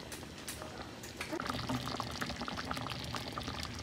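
Lentil fritters dropped one by one into simmering curry with the heat switched off, giving soft bubbling and liquid burbles over a low, steady background at moderate distance.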